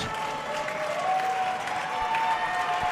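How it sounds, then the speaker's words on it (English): A crowd applauds at a women's racquetball singles final, with steady, dense clapping that holds for several seconds at a moderate level and carries a faint tonal whine above it. "The crowd, big applause."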